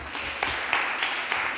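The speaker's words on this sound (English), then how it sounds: "Okay, applause." A class in an oral science-communication workshop gives brief applause, a short patter of scattered hand claps heard at close range.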